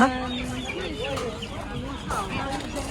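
Chickens cluck continuously amid a noisy crowd, with voices talking nearby at a Sunday market in Lisbon, Portugal, where chickens and peacocks are sold.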